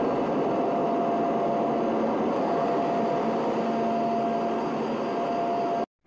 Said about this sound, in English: our plane is moving and we're about to take off